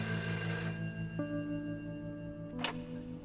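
A telephone rings during a call placed from prison, with sustained electronic ringing tones that shift pitch partway through and a short burst near the end, moderately loud over a quiet room.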